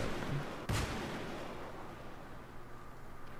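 Artillery fire in Battlefield 3 Armored Kill on the Armored Shield map, one heavy blast followed by a long rumbling decay over steady low engine-like noise, with a faint thump before it.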